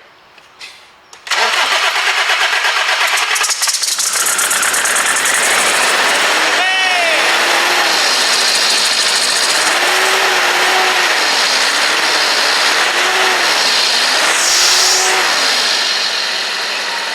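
A Nissan Navara engine, one that previously would not start, cranks briefly, catches and settles into a loud steady idle with occasional revving swells, while people talk nearby.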